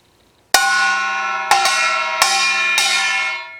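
A kkwaenggwari, the small Korean metal gong of farmers' music, is struck with a wooden stick five times at an uneven pace, each bright ringing hit sustaining and overlapping the next, close and loud with no talk.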